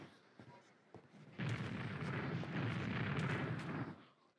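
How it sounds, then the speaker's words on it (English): In a Minecraft hardcore apocalypse modpack, a sudden deep explosion bursts in after a quiet stretch, then rumbles loudly for about three seconds before fading. "I heard an explosion."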